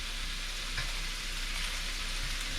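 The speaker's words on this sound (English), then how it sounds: "Just flip them with a fork." Spicy cilantro pork balls sizzle steadily in a pan, a dense continuous hiss with a couple of soft clicks where a fork turns them, no voices.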